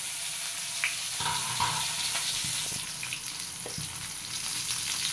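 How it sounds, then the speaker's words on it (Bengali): Eggplant and other vegetables frying in hot oil in a pan, a steady close sizzle with occasional pops and faint stirring clicks, alone without speech. "এখন সবজিগুলো এক এক করে ভেজে উঠিয়ে নেব"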